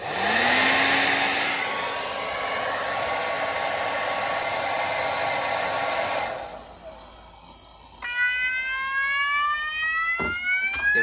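A hairdryer on max heat and max fan blows loudly and steadily at a fire alarm system for about six seconds, then stops; after a short pause the alarm sounds with rising, sweeping electronic siren tones.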